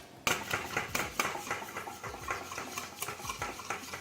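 Egg yolks and maple syrup are beaten by hand with a whisk in a bowl, a close, brisk, rhythmic clatter of wire against the sides that runs steadily and alone.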